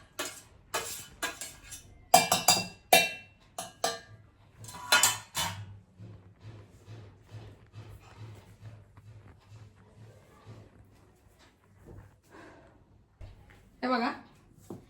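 Chikoo pulp is spooned into a mixer jar for a milkshake, and a metal spoon clinks and scrapes sharply against the jar in a quick burst early on. Softer taps follow while someone talks over the clatter.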